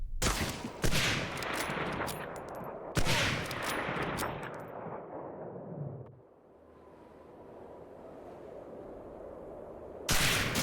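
Bursts of rapid gunfire crackle loudly in Medal of Honor: Allied Assault, stopping for a few seconds of low rumbling ambience before another burst erupts at the end.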